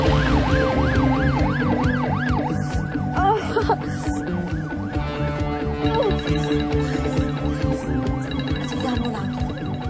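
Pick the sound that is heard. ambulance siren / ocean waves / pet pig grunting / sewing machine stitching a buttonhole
ambulance siren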